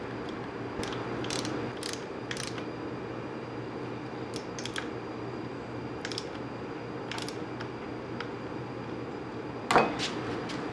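A bolt with a new crush washer is tightened down to torque on a Fox F-Series suspension fork, giving sparse faint metallic clicks and ticks over a quiet background, with one sharper tap near the end.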